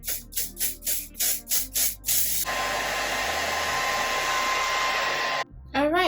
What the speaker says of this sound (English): To seal in that lace spray, we're gonna spray some of the olive oil fix-it spray.